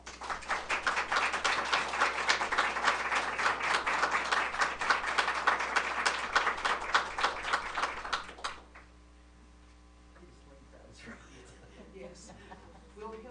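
Applause from the audience at a school board of education meeting, steady clapping for about eight seconds that then stops abruptly, leaving a quiet room with faint sounds.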